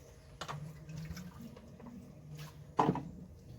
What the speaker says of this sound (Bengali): এই দিয়ে দিলাম 3 বাটি জল